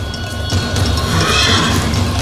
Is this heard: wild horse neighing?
yes